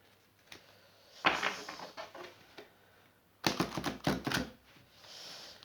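Tarot cards are shuffled up close in two bursts of quick riffling and flapping, separated by a short quiet gap.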